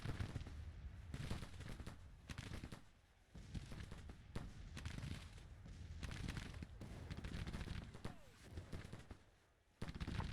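Troops' musket fire crackles in Grand Tactician: The Civil War, a quiet, continuous stream of overlapping shots with occasional louder volleys and brief lulls.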